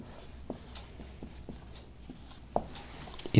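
A pen scratches on paper up close in short strokes and taps, faint but clear, with a few louder knocks at the end and no talking.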